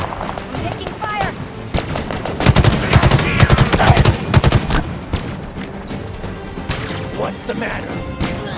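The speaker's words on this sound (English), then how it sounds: "Taking fire." Gunfire in Halo Infinite cracks in rapid bursts, with a dense fusillade peaking in the middle amid game effects and clashing impacts, while voices speak intermittently.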